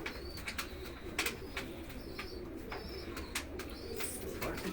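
A pigeon coos at a rooftop loft, its low murmur steady beneath scattered clicks, rustles and background hum, with a few higher bird chirps breaking through.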